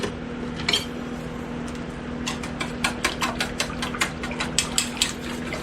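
A whisk stirs cinnamon into peaches in a bowl, making a run of quick light metallic clicks and taps that grow denser and more regular, close and moderately loud, without talk.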